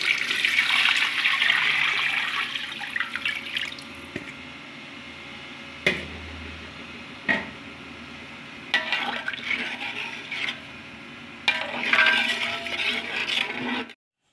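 Water from a glass gushes into a cooking pot for chicken pulao in several separate pours, the rushing splashes broken by short pauses and a few sharp knocks.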